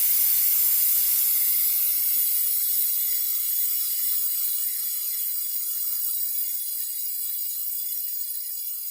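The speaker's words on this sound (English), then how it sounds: "So we're just going to hold this over here so Steam can hit the towel instead." Steam hisses out of a Pampered Chef Quick Cooker as it depressurizes, a loud, sustained high-pitched jet that is aimed at a towel and gradually eases off with no voices.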